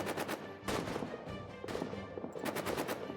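Gunfire in the World War trench game All Quiet in the Trenches: repeated bursts of rapid machine-gun and rifle shots, loud and fairly close, with short pauses between volleys.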